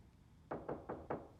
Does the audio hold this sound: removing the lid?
no